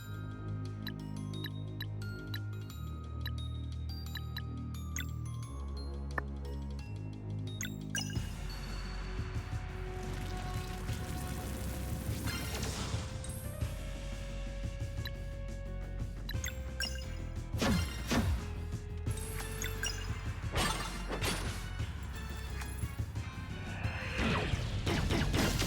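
A Cog Rain attack in the video game Sea of Stars plays as a long run of game effects: tinkling mechanical clinks and chimes, then a dense barrage of metallic crashes and smashes with sharp impacts, fairly loud with no talk.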